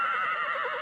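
A horse neighs loudly and close up in one short, shaky whinny that stays strong throughout.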